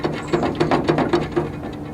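A ratchet wrench clicks in quick, even strokes, tightening the belt adjuster nut on a Husqvarna K1270 rail saw. About seven sharp metallic ratchets sound up close and alone.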